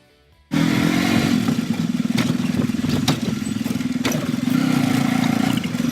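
A motor tricycle rides along steadily and close up, its engine droning loudly after starting abruptly from near silence, with no talk over it.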